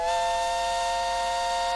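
A shrill, steady steam-style whistle from the Neighbours From Hell 2 video game holds one sustained tone throughout, loud and alone.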